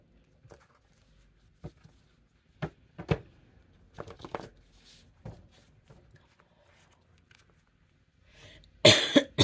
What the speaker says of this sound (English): I just cough for no reason.